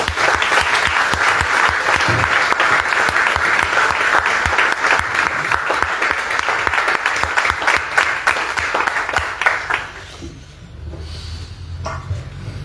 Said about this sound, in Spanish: Un aplauso para Alfredo Bryce.